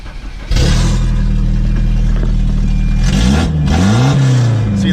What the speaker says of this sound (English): See, that's revving up full.